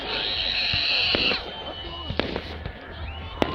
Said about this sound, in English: then the fireworks should be here soon